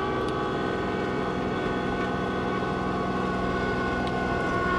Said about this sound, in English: I'm going to drop the blower, and now we're going to start pushing into that snow.